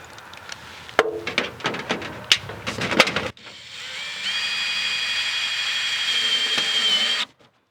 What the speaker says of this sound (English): I'm pinning it together with screws.